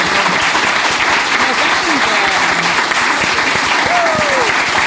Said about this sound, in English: I just want to give you all a round of applause